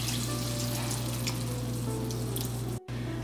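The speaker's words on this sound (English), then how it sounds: "I need little bit gravy, so I'm adding 1/2 glass of water." Water poured into a hot pan of frying chilli chicken makes a strong, steady sizzle and bubbling hiss, fairly close and continuous, with a low hum underneath and a brief dropout near the end.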